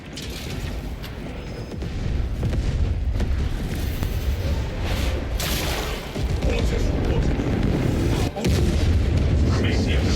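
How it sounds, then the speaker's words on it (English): Detonation explosions rumble in Warhammer 40K: Space Marine 2, a loud sustained roar of booms and artillery-like blasts with voices talking over the din. "You are clear to detonate."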